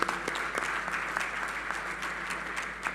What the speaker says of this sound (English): So I applaud her.